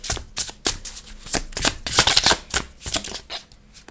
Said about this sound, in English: I'm just going to reshuffle these